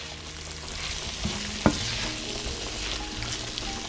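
Meat-and-vegetable filling with a spoonful of tomato paste sizzles steadily in a pan on the stove, a low continuous fry with a couple of sharp spoon taps against the pan partway through.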